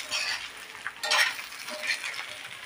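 Green chillies coated in gram flour sizzling and frying in a pan, a steady close crackle with brief stirring scrapes.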